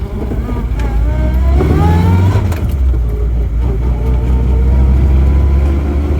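An MG Midget engine holds a steady, loud drone at about 1,500 rpm, a low continuous rumble with slight rising tones at moments, close by.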